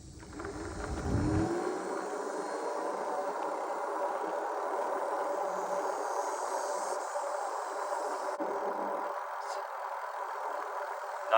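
An Ecotric Bison e-bike's electric motor runs on throttle alone, giving a steady, even whine that holds for several seconds after a brief low thump at the start.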